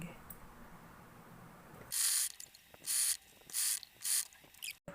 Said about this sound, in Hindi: पट्टी रख लेंगे और सिलाई मार लेंगे।